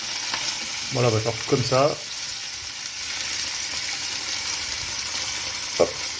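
Tuna pieces sear in a hot pan for tataki, giving a steady broadband sizzle throughout, with a brief stretch of talk near the start and a small clink or tap near the end.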